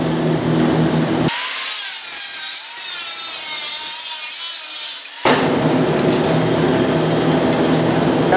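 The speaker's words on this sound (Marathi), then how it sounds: "डेमोसाठी तुम्हाला मी लहान लहान पट्ट्या कापून दाखवतोय" Machine saw cutting thin wood strips for puzzles, one loud, sustained buzzing cut of about four seconds, framed by lower machine hum before and after.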